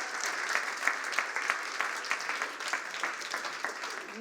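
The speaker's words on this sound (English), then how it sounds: "Let's give them all a big round of applause." Festival audience at a poetry event in Manchester gives a round of applause, steady, moderately loud clapping from a small crowd, continuous throughout with no voices over it.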